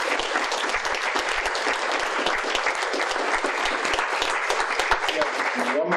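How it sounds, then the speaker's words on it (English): An audience at a live performance bursts into sustained, dense applause for the performers, loud and close, with many hands clapping continuously for the whole stretch. "let's have another round of applause for our performers."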